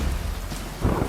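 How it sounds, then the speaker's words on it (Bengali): Steady heavy rain pours through a nighttime thunderstorm, and a low rumble of thunder swells near the end beneath the constant downpour. "মাঝে মাঝে মেঘ ডাকার শব্দ শোনা যাচ্ছে।"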